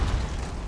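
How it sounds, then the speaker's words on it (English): A C4 charge detonates in Rainbow Six Siege, a short, heavy, low boom with a dense rumbling body that stays loud for under a second. "C4, watch out!"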